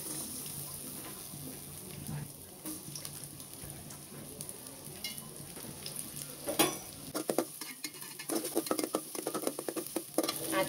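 Chopped onion dropped into about four tablespoons of hot oil in a pot, a soft steady sizzle that turns into a louder, crackling patter partway through, with light stirring.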